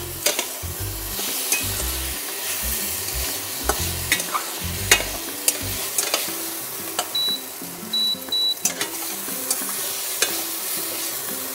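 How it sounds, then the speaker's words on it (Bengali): Soya chunks sizzle and fry in a pan while a utensil repeatedly scrapes and clanks as it is stirred; a few short electronic beeps sound partway through. "দিয়ে এবার ভাজবো, আরেকটু ভেজে নেব"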